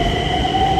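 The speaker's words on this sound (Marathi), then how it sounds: "कशी मेट्रो असते, चालले मेट्रो." Inside a Nagpur metro train while it runs, a loud steady rumble with sustained tonal hum and whine lines, brief and unbroken.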